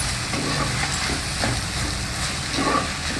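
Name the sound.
stirring cabbage and chana dal with turmeric and salt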